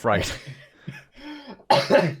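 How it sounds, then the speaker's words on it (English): A short cough comes in the middle of casual podcast chatter. It is brief, close and fairly loud, with people talking before and after it. "that was a cough"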